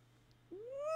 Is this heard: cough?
no